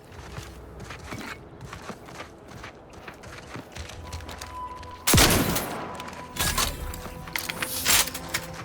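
Gunfire in The Outer Worlds 2 comes as loud, sharp bursts of shots in the second half, clustered and repeated. Quieter footsteps and ambient game noise run beneath them.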